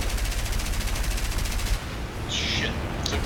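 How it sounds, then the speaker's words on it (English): Aircraft machine guns fire in the War Thunder video game, a rapid continuous rattle that stops abruptly partway through, followed by a brief hissing burst, loud and close. "Only one of my guns fires."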